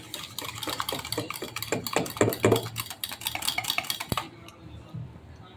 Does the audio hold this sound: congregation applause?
no